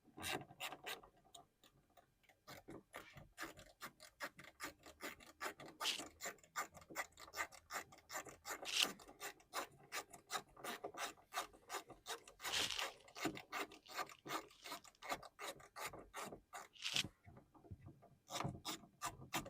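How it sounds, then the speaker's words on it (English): A very long screw is backed out of a Civic's interior trim with a ratchet and 8mm socket, giving close, steady rhythmic clicking and rasping strokes that continue at length with brief pauses. "It's a very long screw, so it takes a little while to come out."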